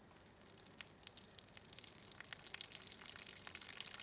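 Fermented tomato seed mixture is slowly poured through a sieve into a box, a faint, hissy trickle of liquid with soft splashes and drips growing slightly louder.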